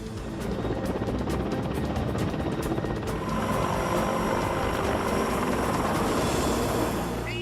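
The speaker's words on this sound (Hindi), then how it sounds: "Chinook helicopter Indo Tibet border पर तैनात।" Chinook twin-rotor military helicopter deployed on the Indo-Tibet border, its loud, steady rotor thump and engine roar continuous and close throughout, with no talk.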